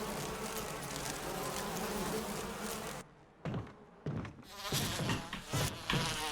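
A swarm of bees bursts from a giant beehive in Resident Evil, a loud dense buzzing drone that suddenly cuts out, then returns in choppy bursts with dull thuds in between.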